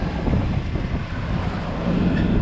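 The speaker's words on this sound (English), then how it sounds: "the wind is supposed to drop off some this afternoon" Steady wind buffets a sailboat at sea between keys, a continuous low rushing roar with broadband noise and faint water wash, constant and fairly loud throughout with no talk.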